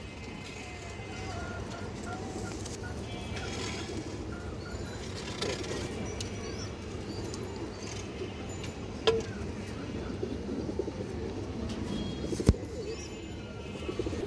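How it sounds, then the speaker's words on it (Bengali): Pallas-line pigeons coo and stir faintly in a quiet loft while someone talks over them, with a couple of sharp knocks near the end. "এই যে দেখেন কবুতর, অনেক সুন্দর কবুতর মাশাআল্লাহ।"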